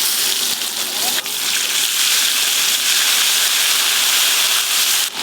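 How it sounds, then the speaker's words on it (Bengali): Ginger paste fries in hot oil in a pan, with bay leaves, whole dried chillies, cumin and turmeric already added, for a Bengali picnic dish; the sizzle is a steady, loud hiss that runs unbroken through the clip. "আদা তো ভাজা ভাজা হয়ে গেল"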